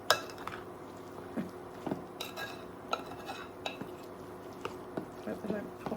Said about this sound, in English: You hear those cranberries popping.